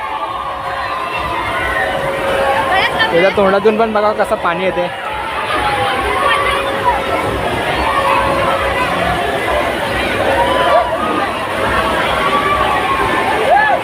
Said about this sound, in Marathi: स्विमिंग पूल चालू केल्यामुळे सगळीकडेच गर्दी आलेली आहे. सगळी लोक इथंच आलेली आहेत.